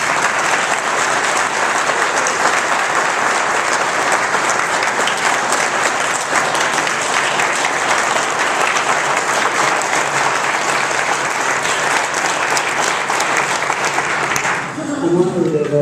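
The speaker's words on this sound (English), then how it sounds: "so please give him a round of applause." Sustained loud applause from a large crowd at a political meeting, steady for about fifteen seconds before fading as a voice begins to speak.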